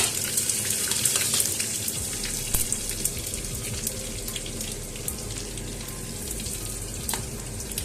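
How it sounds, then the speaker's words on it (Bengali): Panch phoron spices and whole dried red chillies sizzle and crackle in hot oil, a steady close frying hiss with scattered sharp pops and a brief stir, no voices. "এবার এর মধ্যে আমি এই 5 ফোড়নগুলো সব দিয়ে দিলাম।"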